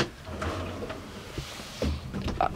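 Kitchen drawers in a Morelo Loft 84 MX luxury motorhome being slid open and shut, a few soft thumps and rattles over quiet room tone, with one firmer close near the end.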